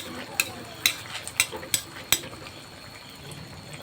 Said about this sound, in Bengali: আমি সব কুয়াগুলো ভেজে নেব